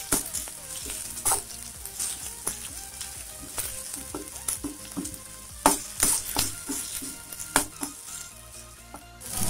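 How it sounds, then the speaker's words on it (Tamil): Green chillies and ginger garlic paste sautéing in hot oil while preparing a dry chicken dish, giving a steady close sizzle broken by frequent scraping and clattering stirs of a spoon against the pan. "பச்சை மிளகா கூடவே இஞ்சி பூண்டு பேஸ்ட் போட்டு நல்லா பச்சை வாசனை போகிற வரைக்கும் நல்லா வதக்கணும்"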